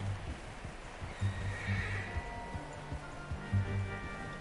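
A horse whinnies in Red Dead Redemption 2, a clear neigh with hooves clip-clopping faintly underneath against a quiet outdoor game ambience.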